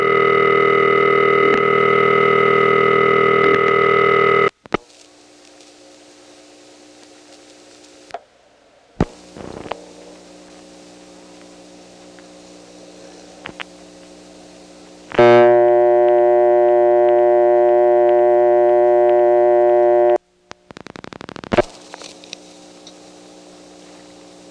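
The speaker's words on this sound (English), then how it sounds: "On the second pulse, you'll hear a rotary switch resetting, and then again a very long pause with a click in the middle of it, and then finally the dial tone will return." 1970s Step-ESS telephone test line: a steady dial tone cuts off, then sparse clicks and a rotary switch resetting during a long quiet stretch, a multi-tone signal, more clicks, and the tone returning, loud and close.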